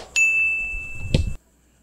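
A single short notification ding rings out with a sustained high tone over faint background noise, then stops abruptly, standing alone with no talk.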